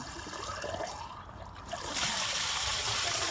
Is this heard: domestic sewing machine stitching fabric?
no